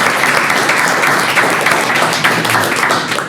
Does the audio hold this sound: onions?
no